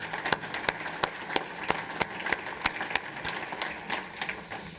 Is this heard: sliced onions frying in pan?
no